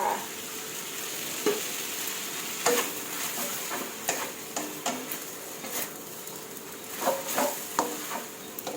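Glass noodles are stir-fried in a pan with a little added water, giving a steady close sizzle broken by repeated scraping and clacking of the spatula against the metal.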